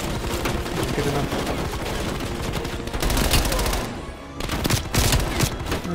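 Dense automatic gunfire bursts in the first-person shooter Black Ops Cold War, rapid and loud, with a brief lull before the firing resumes.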